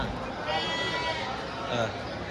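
Goats and kids bleat among a crowd at an early-morning sheep and goat market, their wavering cries rising over the dense murmur of people talking nearby.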